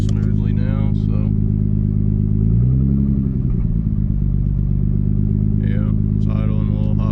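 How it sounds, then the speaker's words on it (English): A vehicle engine idles evenly and smoothly after coolant temperature sensor work, a steady low drone throughout with a brief rise partway, while a person talks over it at times. "It is starting to idle even and smoothly now"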